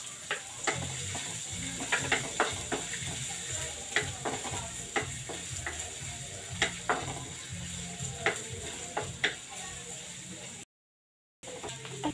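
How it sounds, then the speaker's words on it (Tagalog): Chopped onion sautéing in a pan for a broccoli and pork dish: a steady sizzle runs throughout, broken by regular clicks and scrapes of stirring, with a brief silent gap near the end. "Magisa na tayo ng onion"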